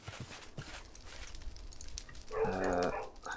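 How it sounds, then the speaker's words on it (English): A dog in a colony-building video game barks once loudly near the end, following quieter background game sounds and soft thuds. "That dog is driving me mad today."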